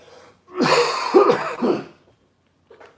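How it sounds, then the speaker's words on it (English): A person gives a big, harsh cough up close, a few heavy bursts in a row, then a faint breath afterward. "Big cough coming here."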